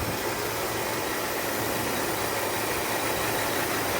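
A 2013 Chevrolet Silverado with a misfire idles in a constant, even engine drone that stays close and steady throughout, with no voices.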